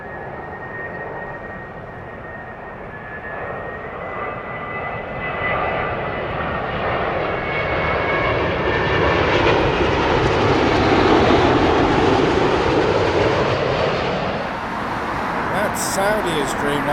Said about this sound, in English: That is LL's 787-9, the Boeing Dreamliner, and that is coming in from Tel Aviv.